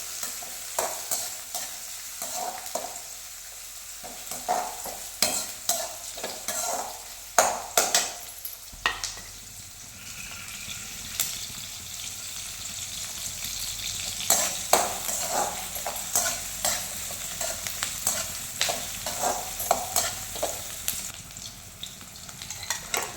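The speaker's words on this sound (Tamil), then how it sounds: "வெங்காயம் கருவேப்பிலை அது கூட மிக்ஸ் பண்ணி நல்லா வதக்கிக்கலாம்" Onion and curry leaves sauté in a pan while a spoon stirs and scrapes repeatedly, bursts of clattering strokes over a steady sizzle, close and fairly loud, with no voices.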